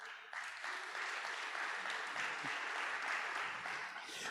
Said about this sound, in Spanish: Le da palmas por eso.